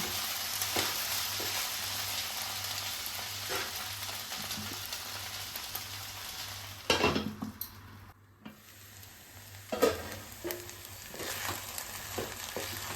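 Sago khichuri stirred and simmering in a pan, a steady soft sizzle and bubbling with occasional scrapes and a few louder clatters, close and moderately quiet, no talking.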